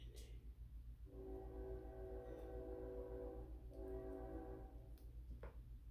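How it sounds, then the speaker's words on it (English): A train passes near a workspace, its horn sounding in two long, loud blasts over a steady rumble of wheels and engine, with a brief pause between the blasts. "Sorry about the train."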